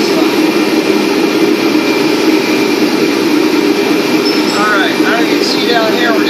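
A jet engine heater warming a 15-inch wheel rim for bead lock work gives off a loud, steady roar with a constant broadband rush and no breaks.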